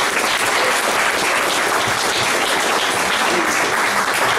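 A theater audience bursts into sustained applause for a guest speaker, a dense steady wash of many hands clapping loudly and evenly throughout, with no talking heard.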